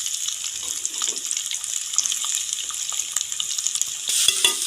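Cumin seeds fry in oil in a pan, giving a steady, close hiss and crackle with scattered pops, growing briefly louder and harsher near the end; no voices.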